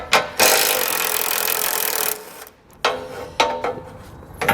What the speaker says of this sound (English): So I'm gonna take a 13mm socket and extension.